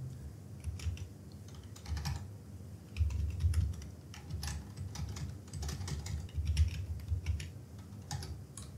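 Fingers type a random email on a computer keyboard in quick irregular bursts of close, crisp key clicks with brief pauses, alone with no voice.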